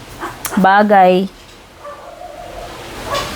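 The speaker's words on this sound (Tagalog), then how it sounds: "na-distract ako doon sa aso ko, biglang nang habol ng pusa" A pet dog suddenly chasing a cat gives one short, loud, whining yelp-bark close by, then the room settles into quiet murmuring.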